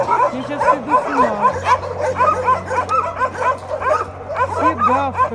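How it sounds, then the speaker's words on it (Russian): Several dogs bark, yip and whimper at an animal shelter, a busy overlapping chorus of barks near and far, with a low steady hum underneath and a person talking over them. "Все гавкают, что-то делают."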